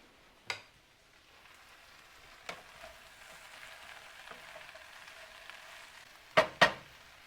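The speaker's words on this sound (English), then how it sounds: "Let's go for mushrooms. Stir those in." Mushrooms are stirred into a faintly sizzling frying pan for fajitas, with a soft, steady hiss and a few sharp utensil clacks against the pan, one early and two close together near the end.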